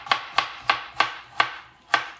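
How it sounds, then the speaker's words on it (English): Vegetables being chopped on a board during home cooking, six sharp, evenly spaced knife strikes in a steady rhythm, close and clear with nothing else audible. "I might as well spend a bit of time chopping veggies"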